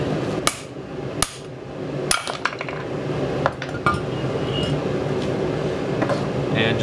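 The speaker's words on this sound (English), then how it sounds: "So I'll just pound the socket." A hammer pounds a socket on a Dana 44 axle part, a few sharp metallic strikes spaced irregularly over a steady background rumble, loud and close.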